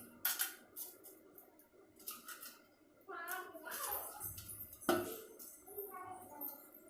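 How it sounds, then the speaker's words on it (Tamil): Crab being cracked and crushed for Tamil-style crab rasam, with several sharp knocks and crunches and hard clatter against a dish. The sounds come in short bursts, close and fairly quiet, with pauses between them. "ரசத்துக்கு நண்டை நல்லா 1-2 நச்சு எடுத்துக்கலாம்"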